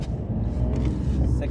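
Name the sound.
car accelerating while picking up speed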